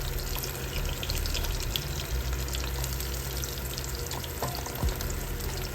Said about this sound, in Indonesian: Goreng hingga warnanya golden brown atau kuning keemasan.